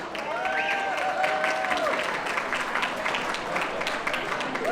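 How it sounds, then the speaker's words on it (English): An audience applauds warmly and continuously at a foundation's anniversary celebration, with a thin tonal hum or whistle audible early on beneath the dense clapping. "Yes, round of applause, please."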